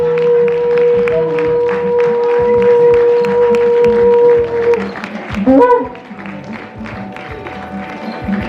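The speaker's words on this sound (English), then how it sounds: "A round of applause, ladies and gentlemen, as he comes on stage." Applause and crowd noise at a stage event as the Olu of Warri, Ogiame Atuwashe III, walks on, a steady loud wash of clapping with a sustained horn-like tone, swelling and then easing off.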